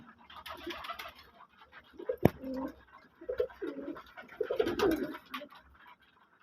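Pet pigeons, all young birds, coo repeatedly while eating an afternoon feed, with throaty rolling calls rising and falling close by alongside a sharp click and faint scratching.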